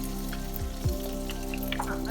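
Garlic, dried red chillies and curry leaves fry in hot oil with a steady, dense sizzle close by, a few low clunks from the pan mixed in and no talking.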